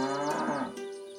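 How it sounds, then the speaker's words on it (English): A cow gives one long, drawn-out moo from a farm shed in a farming video game, loud and close, with no other sounds. "I heard impatient mooing from the shed"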